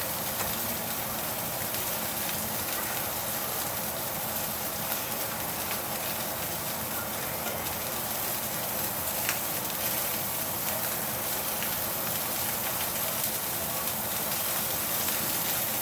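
Steak sears in rendered beef fat, giving a loud, dense, steady hiss of sizzling that holds evenly throughout, close up and without talking.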